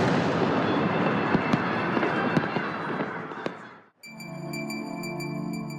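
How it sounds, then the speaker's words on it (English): Fireworks burst over Kyiv at night in a dense, continuous crackle with sharper pops scattered through it. After about four seconds it cuts away to a sustained musical tone. "The only fireworks I experienced that night were the ones lighting up the lonely sky over Kyiv."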